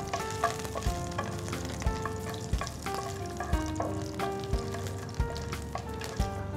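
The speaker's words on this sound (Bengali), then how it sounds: "প্রথমে শুকনো মরিচটা ভেজে নিচ্ছি।" Dried red chilies fry in mustard oil with a steady, close crackling sizzle, broken by soft periodic knocks of a utensil against the pan, with no voices.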